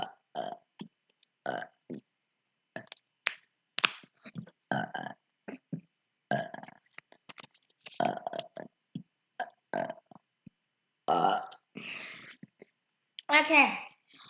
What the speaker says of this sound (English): Pokemon card burp